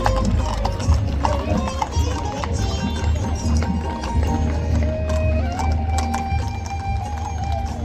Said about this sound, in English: Parade पथ पर सधे कदमों से चलते ये अश्व अनुशासन, साहस और गति का प्रतीक है।